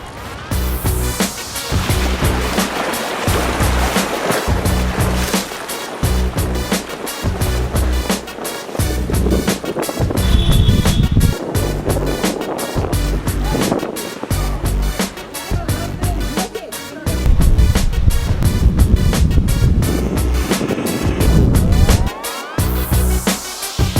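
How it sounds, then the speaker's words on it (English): Wind blowing hard into a microphone outdoors, making a loud, continuous broadband roar and rumble with rhythmic buffeting bursts that run throughout, with no voices heard. "This is the only thing I can do to show the wind, because wind is not blowing that much heavy."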